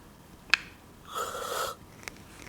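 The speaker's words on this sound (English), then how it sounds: "Cough," A single human cough, short and sharp, bursts out once, then a softer breathy exhale follows before a faint second catch, all in a quiet room with no talking.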